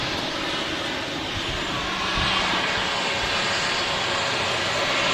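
An Air France Hop Embraer 190 jet rolls off the runway after landing, its engines making a steady, broadband roar that holds moderately loud and close for the whole stretch, with no voices over it.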